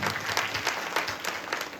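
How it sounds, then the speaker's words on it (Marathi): Audience at a kirtan claps in a dense burst of applause, many hands close by and fairly loud through the short stretch. "यांच्याकरता एकदा जोरदार टाळी वाजवा"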